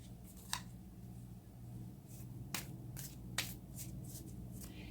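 Tarot cards are handled and drawn from the deck, producing a few sharp close flicks and snaps over a low steady hum.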